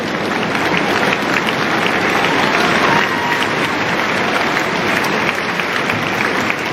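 Wimbledon tennis crowd applauding and cheering during a women's singles match, a dense, loud, sustained wash of clapping throughout.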